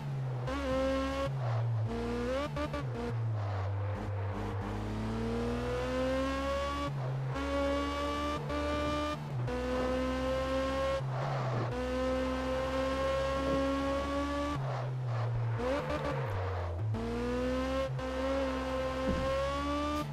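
A sports car engine in Test Drive Unlimited 2 revs loudly and continuously, climbing through gears with repeated shifts and brief dips, alone without talk.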